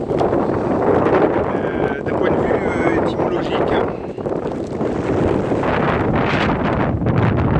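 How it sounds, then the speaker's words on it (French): Strong wind buffets the microphone outdoors beside a stone dolmen, a constant loud rumbling roar under someone speaking French. "Donc il y a beaucoup de vent là, mais je vais essayer de me faire comprendre."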